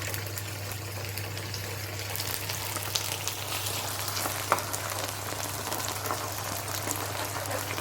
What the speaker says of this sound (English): Now adding the tomato and garlic.